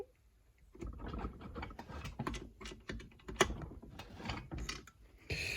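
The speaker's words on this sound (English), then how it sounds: "So as I'm turning the lay shaft, the output shaft as I hold it, it's not spinning." A 1977 Maico MC440AW motorcycle gearbox turned by hand gives close, quiet clicking and ratcheting of gears and shafts in irregular bursts, with a few sharper metallic ticks and no talking.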